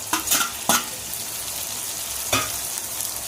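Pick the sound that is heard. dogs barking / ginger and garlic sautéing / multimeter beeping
ginger and garlic sautéing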